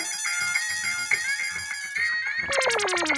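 A mobile phone rings from a delivery boy's incoming call, starting as a steady electronic tone and switching to a louder, rapidly pulsing ringtone near the end, with no talk over it.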